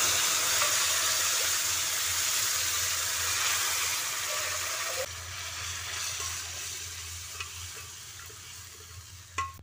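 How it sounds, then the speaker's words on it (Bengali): Water-mixed biuli dal hits hot tempering spices in a pan with a loud, bright sizzle and hiss that slowly settles into softer bubbling, with a few light clinks of a spoon near the end. "এবার এ পর্যায়ে জল মেশানো ডালটা এতে দিয়ে দিচ্ছি।"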